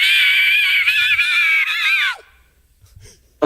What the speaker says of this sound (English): Now this is an inward scream.